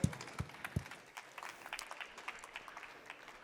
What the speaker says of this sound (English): Big hand clap.